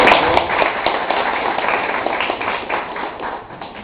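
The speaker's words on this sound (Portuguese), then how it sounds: "Queria dar uma salva de palmas aí para o Américo" An audience at a lecture in Volta Redonda applauds a speaker, a continuous close burst of clapping that fades slightly toward the end.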